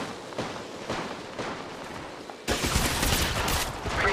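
Gunfire in the mobile battle royale game Apex Legends Mobile, a loud sustained burst of rapid shots that starts abruptly midway and keeps going to the end, after a quieter stretch of softer scattered pops.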